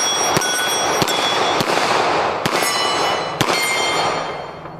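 Rapid pistol shots from a CZ-75 semi-automatic ring out against steel plate targets at an outdoor range, several sharp cracks spaced about a second apart, each followed by a metallic clang, loud and close.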